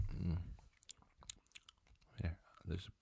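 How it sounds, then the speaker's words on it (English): Someone chews gum close to the microphone, with wet, smacking mouth sounds in several bursts and a short murmur between them. "But I'll take gum. Chew it louder."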